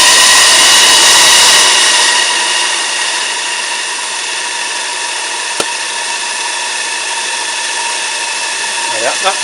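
A blower on a coal-fired vertical boiler roars steadily, loud and close, easing slightly in level and then holding a constant broadband rush with a faint click near the end.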